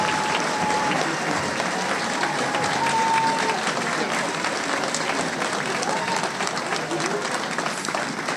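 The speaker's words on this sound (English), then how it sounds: "let's give our seniors one more round of applause" Sustained, loud applause from a large graduation crowd cheering the class of 2022 seniors, steady dense clapping throughout with a few faint whistles and crowd noise mixed in.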